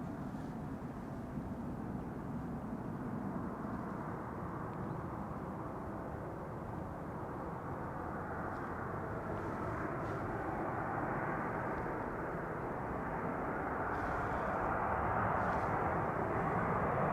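A heavy airliner landing fast at Amsterdam Schiphol Airport, a broad, steady engine roar heard from a distance that swells slightly toward the end.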